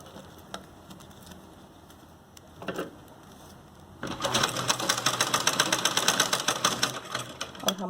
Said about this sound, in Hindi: और बस यहाँ पर हमने सिलाई लगा देनी है।